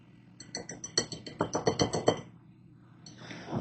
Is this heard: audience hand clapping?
no